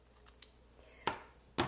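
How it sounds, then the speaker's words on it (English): Scissors trim the end of a paper piece in a papercraft project, with two crisp close snips a half second apart after a few faint clicks. "And then I just take the scissors"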